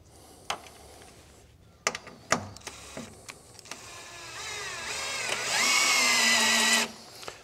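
Cordless screwdriver driving screws through metal threads into a Dacia Sandero Stepway front grille; a few sharp clicks and knocks, then a rising whirring motor run that swells loud and steady before cutting off.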